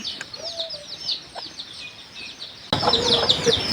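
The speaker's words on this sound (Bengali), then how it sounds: "তারপরে এই পাশে মুরগি আছে এই যে" Chickens cluck in a rural Bangladeshi village yard among small birds' chirps, a steady outdoor chorus that grows louder and closer for the last second.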